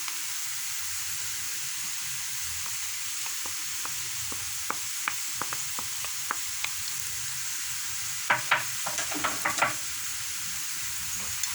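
Onion frying in oil in a pan with ground spices such as cumin and turmeric, stirred steadily: a continuous close hiss and sizzle with light utensil taps, then a brief cluster of sharper scraping clicks near the end.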